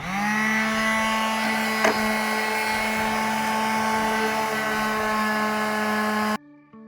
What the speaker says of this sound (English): Okay, I let that dry and now we're going to sand it.